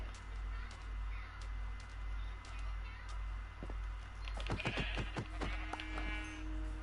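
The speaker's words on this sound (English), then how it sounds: "I didn't actually see there's 2 sheep there." Sheep in a Minecraft game bleat in a quick cluster of short, nasal calls toward the end, fairly close, after a stretch of quiet ambience with a steady low hum and soft clicks.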